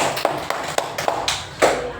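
A classroom gives a short burst of applause for a student group. Several sharp, spaced hand claps ring out close by with no voices over them.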